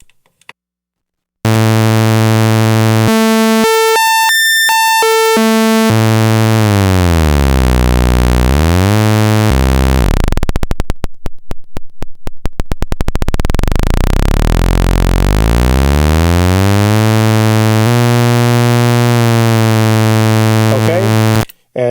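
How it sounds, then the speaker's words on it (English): A buzzy, bright synthesizer sawtooth-wave tone sweeps up and down in pitch, with warbling and a stuttering low passage midway. It plays loud and alone. "Okay, sawtooth."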